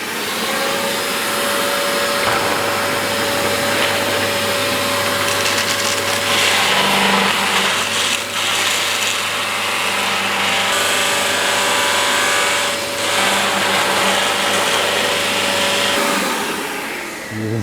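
A cocoa bean winnowing machine driven by a Hoover vacuum runs with a loud, continuous whining roar and a steady tonal hum, and the roar holds for the whole stretch without talk.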